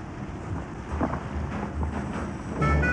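Heavy rain pours steadily with low thunder rumbling beneath it, a continuous wash of sound that swells briefly in the middle and again toward the end, with no voices.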